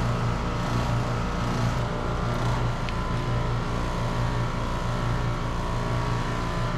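A 2-1/2 ton heat pump runs in AC mode, a steady loud mechanical hum with a constant low drone that holds without change throughout.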